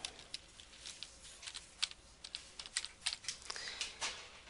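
Computer keyboard keys tapped in short irregular bursts as a file name is entered, a close, quiet clatter of individual clicks that never becomes a continuous rhythm.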